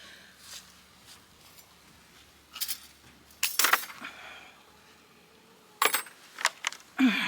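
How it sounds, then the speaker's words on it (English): Tin snips cut aluminum metal banding for a raised-bed garden watering setup, producing several sharp metallic snips and clinks, scattered and irregular, over a quiet background. "if you get the aluminum metal banding, it's pretty easy to cut with tin snips"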